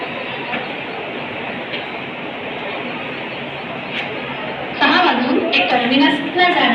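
A slow suburban local train rolls into platform 3 at Kalyan Junction, a steady rumble of wheels and carriages with clattering and brief squeals growing louder near the end, under a station announcement.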